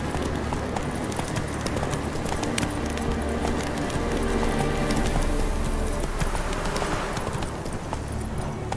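Roach, a horse in The Witcher 3, gallops with steady hoofbeats under a dense, continuous wash of game ambience and music, moderately loud throughout.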